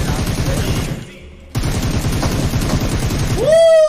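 Rapid bursts of video game gunfire in a mobile shooter, dense crackling volleys that drop out for a half second then resume, with a rising synthetic whine near the end.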